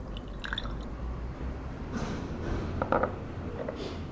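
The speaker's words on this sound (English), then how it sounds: "pour in the juice," Lemon juice poured into olive oil in a jar for a salad dressing, a soft, wet trickle with a few small drips and squishy liquid sounds, close and quiet.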